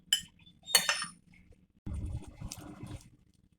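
Vegetables are mixed in a dish, producing a few bright utensil clinks and scrapes against the dish in short bursts, separated by near-silent gaps, with a duller stirring clatter afterward.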